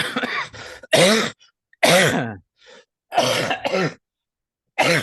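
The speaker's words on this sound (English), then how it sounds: "The cough is still hanging on, man." A man gives several hard, close coughs and throat clears in quick separate bursts, with short silences between them.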